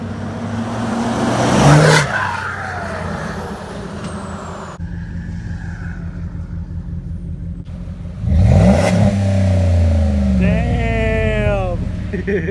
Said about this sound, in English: I think they're just having a joyride in my truck now.